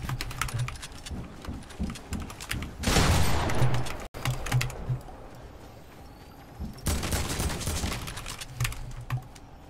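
Gunshots in the video game Fortnite, two dense loud bursts of firing amid a steady patter of keyboard typing and clicking, no speech.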